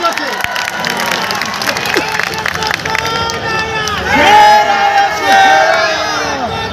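A large crowd at a political rally for an AIMIM MP cheers, shouts and claps, with a loud mass of voices that swells in the second half.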